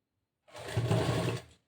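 Sewing machine stitching a puff sleeve on a blouse, a single steady whirring run of about a second with a soft start and stop, close and alone with no voices.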